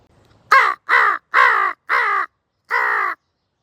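Five loud, harsh crow caws ring out close by in an even rhythm, four quick ones followed by a short pause and a final call, with no talking.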